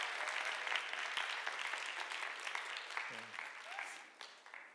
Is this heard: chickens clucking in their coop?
no